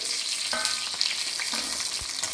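Brinjal pieces fry for a spicy chutney, a steady close sizzle of hot oil with a few brief stirring scrapes and no voices.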